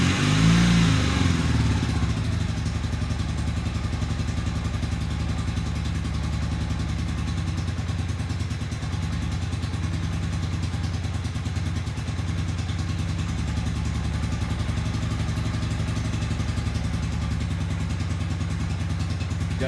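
A small engine fed fresh gas after an oil and filter change runs after a no-choke start following a month unused, in a temperature-controlled room. A loud burst at startup settles into a steady, close, even idle with no talk.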